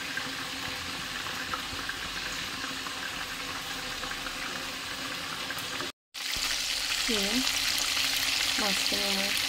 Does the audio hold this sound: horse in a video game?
no